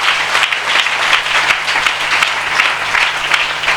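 A church congregation claps steadily through a Hindi sermon, a dense, continuous wash of applause from many hands at close range with no talk over it.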